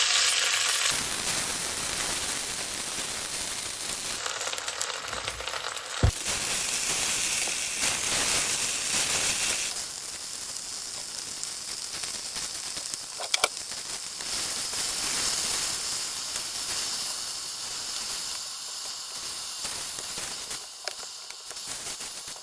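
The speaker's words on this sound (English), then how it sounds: "when your oil's warm, just go in with your spinach as dry as you can" Spinach wilting in warm oil in a pan for a ricotta and spinach slice, a steady soft sizzle and hiss with occasional small pops, with no talking.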